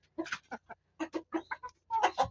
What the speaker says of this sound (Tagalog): So, ito na yun si Tilaok, mga farmers